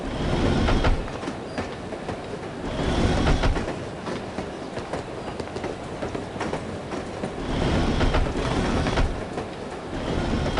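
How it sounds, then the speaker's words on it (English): A moving train rattles and clatters continuously in No One Lives Forever, a loud rolling rumble with rhythmic clickety-clack swells heard from onboard, with no voices present. "I love riding the train."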